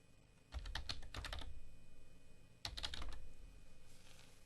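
A computer keyboard is typed on in two quick bursts of clicking keystrokes, close and fairly quiet, with a pause between them, as a username and password are entered.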